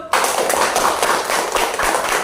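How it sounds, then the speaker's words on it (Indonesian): A class of students claps for the first group after its presentation, a loud, close burst of quick, dense clapping that starts abruptly and carries on for about two seconds. "Tepuk tangan dulu"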